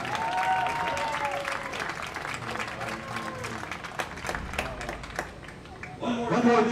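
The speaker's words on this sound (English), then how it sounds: "Let's have a nice round of applause for the Central Catholic 2025 seniors." Crowd applause for graduating seniors at a high school football game, steady clapping mixed with an announcer's amplified voice and crowd noise throughout.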